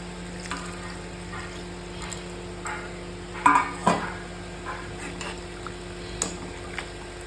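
A little water goes into a pan of simmering curry made with katla fish head, potato and cauliflower, a few brief splashing and sizzling bursts over a faint kitchen background hum.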